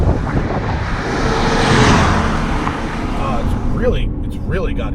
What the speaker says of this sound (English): it has a great sort of bassy induction note that comes out